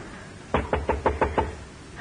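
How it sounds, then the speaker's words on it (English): A run of six firm knocks on a wooden door, evenly spaced and close by, with no voices over them. "Knock on the door."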